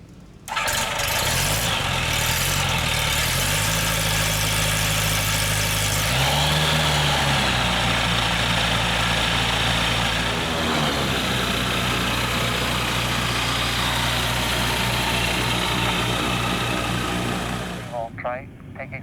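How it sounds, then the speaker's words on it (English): A trike ultralight aircraft's engine revs up for takeoff from runway 5, a loud close droning buzz whose pitch climbs and shifts as the throttle opens, holding steady before cutting off near the end, with voices over it. "Trike taking off, runway 5 for patch work"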